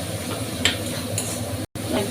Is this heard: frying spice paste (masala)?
yes